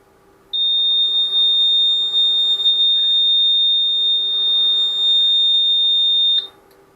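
An aircraft alarm annunciation system sounds one continuous, piercing electronic tone lasting about six seconds, close and loud, then stops abruptly into quiet.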